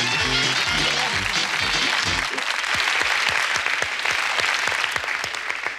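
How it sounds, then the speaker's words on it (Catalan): Studio audience on a Catalan TV game show applauds a contestant, a dense burst of clapping that stays loud throughout, with music fading out underneath at the start. "El nostre aplaudiment pel concursant de la Lluna"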